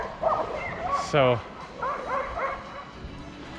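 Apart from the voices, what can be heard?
street dogs fighting and barking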